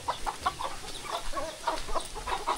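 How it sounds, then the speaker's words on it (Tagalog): Chickens cluck at feeding time near rice fields in a series of short, bright, fairly quiet clucks that come in irregular bursts over faint background noise. "Pakain tayo ng chicken."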